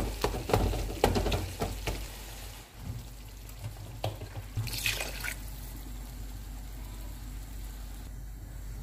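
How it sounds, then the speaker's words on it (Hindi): Two glasses of water are poured into a pot of mutton with tomatoes for Sindhi biryani, giving a loud, continuous splashing rush that settles into a steady hiss. "मैंने इसमें 2 गिलास पानी डाला है ताकि मटन अच्छे से गल जाए।"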